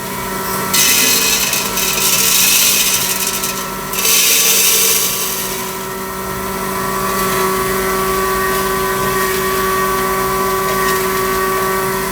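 An atta making machine grinds arhar dal with husk, a loud steady mechanical drone with a constant motor hum, punctuated by bursts of harsh gritty grinding noise in the first few seconds before settling into a continuous whir.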